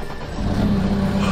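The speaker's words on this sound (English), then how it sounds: "Do you hear that engine purr?" A Lamborghini race car engine runs steadily at close range, its low rumble swelling slightly louder partway through and holding there without talk.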